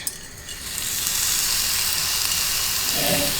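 Duck pieces laid skin side down in a pan sizzle steadily, a bright continuous frying hiss that swells quickly after the first touch and holds loud and close.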